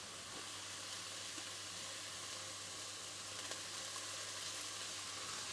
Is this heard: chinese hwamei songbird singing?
no